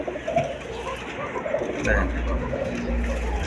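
Fancy pigeons of assorted breeds, a paired female and male, coo softly in low murmurs amid steady background noise and indistinct voices.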